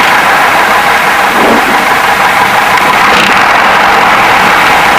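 Piper PA-28 light aircraft engine at idle during a run-up idle check, a loud, steady droning hum close to the cockpit with no talking.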